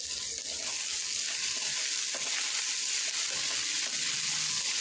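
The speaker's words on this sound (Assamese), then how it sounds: "এতিয়া ধনিয়া পাতখিনিৰ সৈতে পলুখিনি প্ৰায় 1 মিনিটমানৰ কাৰণে গেছৰ জুইটো কমাই ভাজি ল'ম।" Silkworm pupae fry with chopped coriander leaves in a pan over a lowered gas flame, giving a steady, close hiss and crackle of hot oil with faint stirring.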